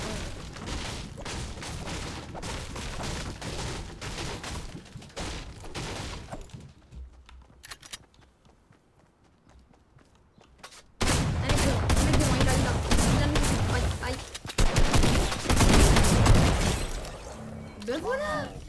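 Gunfire in the Fortnite battle royale, including a new pump shotgun, sounding as bursts of shots. A louder volley of firing picks up after a quiet stretch in the middle, and a player talks throughout.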